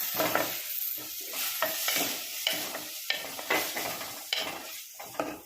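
Tomatoes and greens being sautéed in a pan for a black kavuni rice porridge, with steady sizzling and repeated scraping stir strokes of a utensil against the pan, close and fairly loud with no voices.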